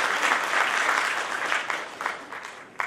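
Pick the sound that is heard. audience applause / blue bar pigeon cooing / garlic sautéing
audience applause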